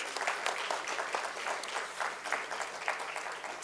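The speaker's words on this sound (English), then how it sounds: "let's welcome him with a huge round of applause" Brief, dense applause from a summit audience in a hall, steady clapping from many hands lasting a few seconds at moderate volume.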